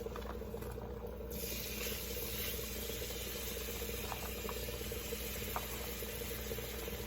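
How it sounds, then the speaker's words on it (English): Steady, busy sizzling from sliced onions frying in a hot pan, a constant crackling hiss with faint pops, close up and without talk. "now that's sizzling. So we're gonna go ahead and add the rest of the sliced onions."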